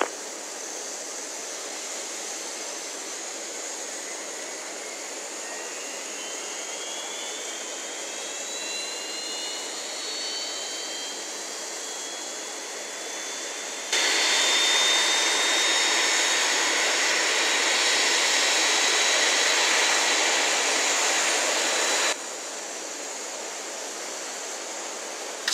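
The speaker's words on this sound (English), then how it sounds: "Starting engine 2." The second engine of an Airbus A320 starts up in the X-Plane flight simulator: a steady jet whine climbs slowly in pitch as it spools, with a louder roaring stretch in the middle, continuous and with no voices.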